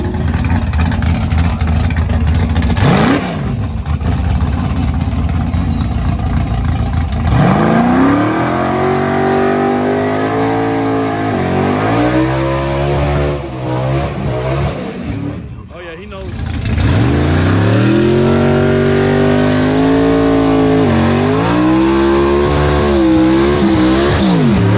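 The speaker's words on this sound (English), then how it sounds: "We're the last 2 cars down the track." Drag race cars launch and accelerate down the strip, engines roaring through rising gear sweeps, loud and close, with a brief drop before another hard run begins.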